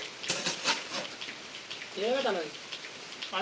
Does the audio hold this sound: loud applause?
no